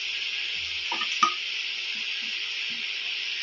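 Ground spices for a Bengali young jackfruit curry stir-frying in a pan, with a steady soft sizzle throughout and a few light scrapes and clinks of a spoon against the pan.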